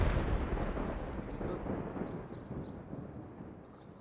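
A thunder sound effect: a heavy, loud rumbling crash that rolls on and slowly fades away over a few seconds, with no other sounds.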